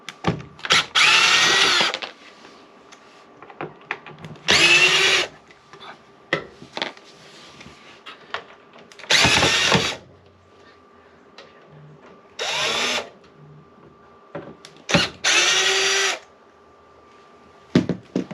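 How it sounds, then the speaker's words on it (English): A power drill whirs in five or six loud, close bursts, each a second or so long, removing screws from an electric RV fireplace, separated by quiet pauses and faint clicks. "we're going to take our drill, we're going to go ahead and pull those screws out."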